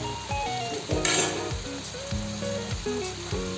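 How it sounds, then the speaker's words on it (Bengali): Chopped coriander is stirred through a sizzling pan of fish with flat beans, tomato and spices, a continuous close frying hiss with repeated spatula scrapes and clinks against the pan. "ধনেপাতার কুচি দিয়ে কিছু সময় নাড়িয়ে চাড়িয়ে তারপর নামিয়ে নেব"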